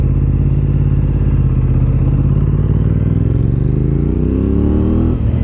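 An Aprilia RS660 Extrema with a parallel-twin engine pulls hard, its loud, close, rumbling drone climbing steadily in pitch under acceleration before a slight dip at the end.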